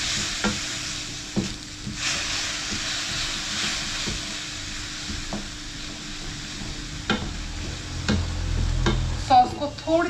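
Kung Pao chicken sauce cooking in a pan over lowered gas heat, a continuous close hiss and sizzle with light stirring scrapes and a few clinks near the end, no talking.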